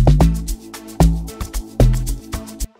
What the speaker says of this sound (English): if you want to make log drums like this